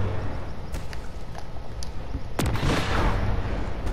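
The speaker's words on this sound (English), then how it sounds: "I need to stop that cannon before it destroys the shield." A cannon in the video game Marvel's Avengers fires with one sharp, heavy blast partway through, over a continuous noisy battle backdrop with smaller cracks and pops.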